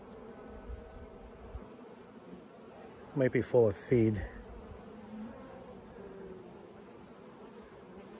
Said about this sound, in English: There's two more frames of bees here.